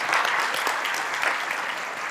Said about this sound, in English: Can we get another round of applause for our retirees and our tenures?